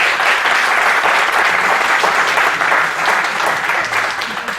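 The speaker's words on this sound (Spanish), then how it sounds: "a quien también le pido un fuerte aplauso." A hall audience at a constitution commemoration gives loud, dense applause, sustained evenly and tapering slightly at the end.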